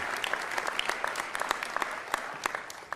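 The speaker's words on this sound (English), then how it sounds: "How about a warm round of applause for our trustees?" Audience at a college presidential investiture applauding the trustees, a dense, steady patter of many hands clapping together at moderate loudness without a break.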